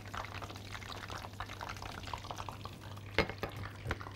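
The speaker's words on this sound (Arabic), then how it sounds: "هنحط البهارات، الكمون،" Ground spices, cumin among them, go into a cooking pan as a soft, faint pouring rustle over a low sizzle, with a couple of light knocks near the end.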